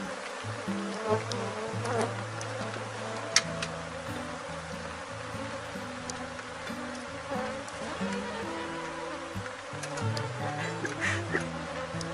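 Honeybees hum steadily around a hive during a colony split, a dense layered drone of many wings with individual bees passing close, no talking.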